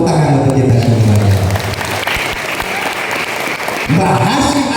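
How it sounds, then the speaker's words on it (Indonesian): An audience applauds during an Islamic religious lecture, a steady broadband wash of clapping that fills the whole stretch, with a speaking voice audible over it at the start and again near the end. "Tepuk tangan untuk kita semuanya."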